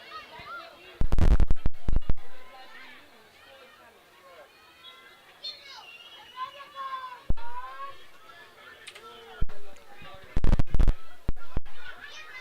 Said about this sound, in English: An extremely vocal home crowd here for South Africa.